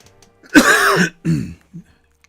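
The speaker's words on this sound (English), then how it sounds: "excuse my cough, people" A close, harsh cough rasps out in two bursts, the first longer, then a brief throaty catch at the end.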